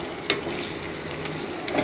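Shrimp and onion stalks sizzle in a pan as they are stirred, a steady crackling fry with a couple of scraping knocks from the stirring utensil.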